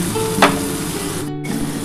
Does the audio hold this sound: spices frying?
yes